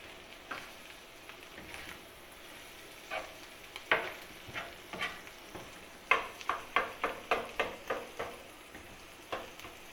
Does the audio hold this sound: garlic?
yes